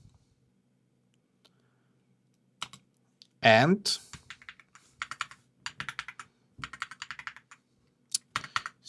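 Someone types on a computer keyboard during a coding tutorial, with bursts of quick, close key clicks separated by pauses and a brief spoken word.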